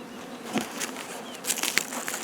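Honey bees buzz around an open beehive with a big multi-box colony, a dense close hum with individual bees zipping past, plus light knocks and scrapes of frames.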